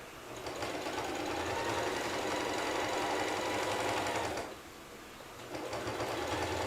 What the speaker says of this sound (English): Ready to sew those fur things?